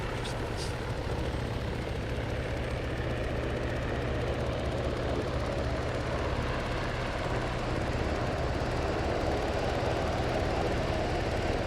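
UH-60 helicopter engines in a video game spool up in a steady, loud, continuous whine and rumble with no pauses.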